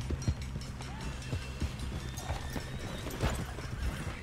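Horse hooves clip-clopping in a steady galloping rhythm with a neigh, in the open-world western video game Red Dead Redemption 2, close and fairly loud.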